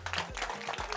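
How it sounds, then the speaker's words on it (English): Spectators at an official kickboxing weigh-in in Lyon clap their hands in a short, busy burst of scattered claps, with a voice faintly audible beneath the applause. "clap your hand for that"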